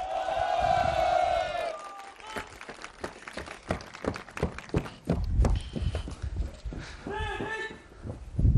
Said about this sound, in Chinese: 掌声欢迎他们。